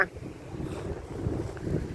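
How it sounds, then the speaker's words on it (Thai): Strong seaside wind buffets the microphone on a fishing pier at Bang Phra beach in Chonburi, a steady low rumble with gusts rising and falling across the whole stretch. "ยลมแรงแรงนะ"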